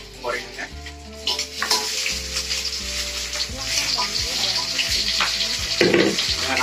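Meat sizzling in a hot wok or frying pan while cooking a continental stock, a steady crackling hiss with stirring and clinking, under background music.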